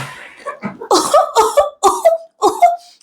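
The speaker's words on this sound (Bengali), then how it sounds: "আইসক্রিম খেয়েছে আর কাশছে।" Someone coughs repeatedly after eating ice cream, a string of about five harsh, throaty bursts with short voiced gasps between them, close and fairly loud.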